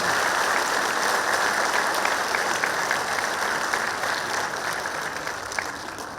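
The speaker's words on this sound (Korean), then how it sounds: "여러분 큰 박수 부탁드리기 바랍니다." An audience at the launch ceremony of Gangwon Special Self-Governing Province breaks into sustained applause, dense rapid clapping that stays loud and then gradually thins and fades over several seconds.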